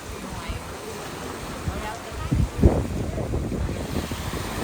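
Sea waves wash onto the shore in a steady broad rush that swells briefly near the middle, while wind buffets the microphone throughout.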